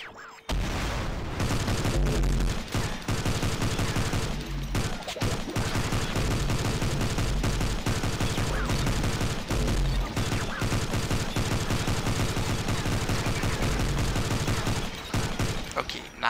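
Sustained gunfire from a long boss fight in the indie video game Silver Bullet, with dense rapid shots and booms blended with game music, loud and nearly unbroken throughout.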